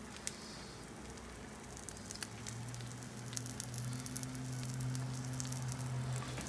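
An omelette with greens and vegetables folded inside cooks in a cast iron skillet, giving off a soft, steady sizzle with scattered light crackles that grows slightly fuller over time, quiet and with no talk.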